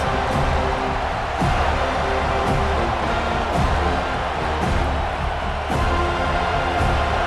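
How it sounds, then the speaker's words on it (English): A large home crowd at a Virginia Tech vs Florida State college football game roars steadily as the defense faces third down, a dense, loud stadium cheer sustained throughout with faint rhythmic swells. "Here comes this home crowd as the defense tries to get off the field on third down."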